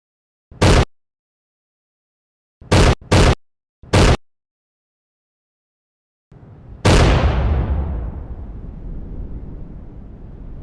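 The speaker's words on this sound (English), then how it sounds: "apparently an explosion happened at a nuclear power plant, in which it was part of a live event" In the video game Railistic, four sharp, separate bangs spaced out, then a big nuclear power plant explosion during a live event, whose roar dies away slowly into a long rumbling tail.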